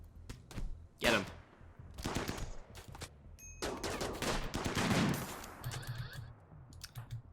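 Rimworld gunfire in a colony assault: scattered single shots and short bursts, sharp and fairly close, crackling irregularly across the whole stretch with no talking.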